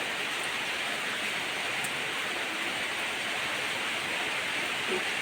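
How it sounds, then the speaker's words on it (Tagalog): Constant heavy rainfall under an orange rainfall warning in Zamboanga City pours down in an unbroken, even hiss, fairly close and steady throughout, with no one speaking. "Aga-aga ng ulan"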